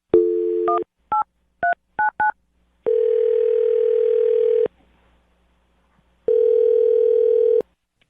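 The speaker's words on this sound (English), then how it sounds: "I'm going to dial her phone number right now." Telephone dialing a phone number: a steady dial tone, then a quick run of separate keypad beeps, followed by long ringback tones with a silent gap between them, clean and close.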